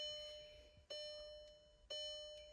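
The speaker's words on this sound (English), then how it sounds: "please ignore the beeping. Car thinks my door's open." A Volkswagen Jetta's door-open warning tone repeats in short chimes about once per second, falsely triggered, clear and close, with no talking.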